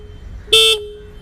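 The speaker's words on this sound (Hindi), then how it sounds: "यह है हॉर्न" A scooter's electric horn gives one short, bright beep, close and loud over a faint idling background.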